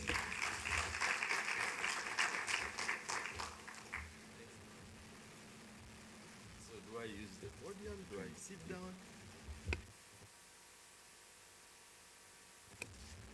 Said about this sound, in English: Ladies and gentlemen, round of applause for Richard.